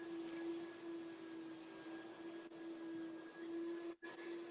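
A vacuum cleaner drones steadily in the background with a constant motor hum, briefly dipping near the end.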